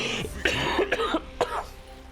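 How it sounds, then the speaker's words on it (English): A few close, sharp coughs burst out in quick succession, each a short rough expulsion of breath, heard alone without talk during a Marvel Snap game session. "excuse me, I'm coughing too much"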